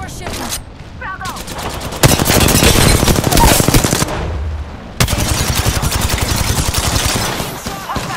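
Heavy automatic gunfire in the battle royale shooter Apex Legends: loud, close bursts of rapid shots rattle almost continuously, broken by a couple of short pauses.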